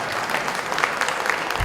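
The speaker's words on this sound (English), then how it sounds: "A warm round of applause for Mrs." Warm applause from an audience at the Giants International anniversary award ceremony, greeting an award winner. Dense, steady clapping fills the whole moment at moderate loudness, with no voices rising above it.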